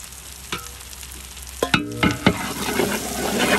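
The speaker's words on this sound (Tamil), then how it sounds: "இஞ்சி பூண்டு மல்லிப்பூ நல்லா வதங்கி வந்துருச்சு, வாசம் வந்துருச்சு." Ginger, garlic and coriander sautéing in a pan for jackfruit veg biryani, a low sizzle broken by several sharp metallic clanks of a spoon stirring against the vessel, close and fairly loud.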